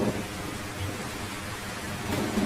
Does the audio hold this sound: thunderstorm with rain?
yes